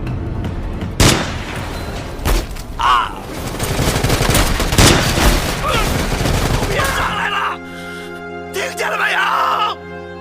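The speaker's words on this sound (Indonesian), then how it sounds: "Mereka juga ditembaki oleh sniper pasukan Tomcat." Sniper and other gunfire rattle through an action film scene as loud cracking shots and bursts over rumbling effects, giving way to quieter music-like tones near the end, with voices mixed in.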